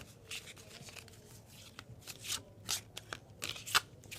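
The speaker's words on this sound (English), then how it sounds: "We are going to shuffle, shuffle, shuffle for the engine." A Story Engine card deck being shuffled in quick crisp bursts of riffling and flicking, close by, with short pauses between flurries.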